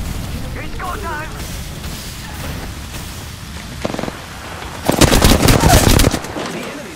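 Gunfire in the video game Apex Legends on Kings Canyon, a loud rapid burst near the end after quieter game sounds, with in-game voice lines heard over it.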